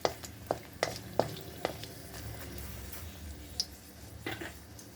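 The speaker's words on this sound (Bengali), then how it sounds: "মানে লঙ্কাটা একটু ভাজা হবে" Four dried red chillies fry in oil heated on a high flame for tarka dal, making a faint, steady sizzle with a run of sharp spoon taps and clicks early on, then occasional stirring sounds.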